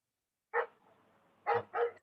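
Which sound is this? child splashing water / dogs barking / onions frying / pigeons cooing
dogs barking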